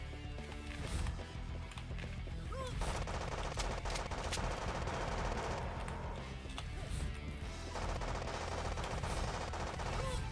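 Rapid video game gunfire with heavy recoil in a DOS-era shooter, dense continuous bursts filling the whole stretch, with faint overlapping game effects and background music.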